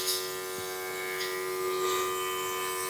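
VERSA Air cordless portable paint sprayer running, a steady close electric motor whine with a constant buzzing hum and faint airy hiss, alone without talk.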